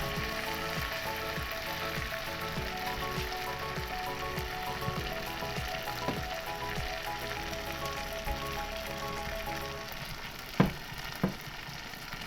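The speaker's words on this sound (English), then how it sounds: "You want to hear that bad boy sizzling." Steady, crackling sizzle of saltfish fritters frying in hot oil, continuous and close, with a couple of faint clinks near the end.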